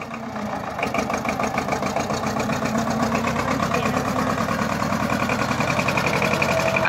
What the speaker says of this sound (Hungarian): Elforog a traktor kereke!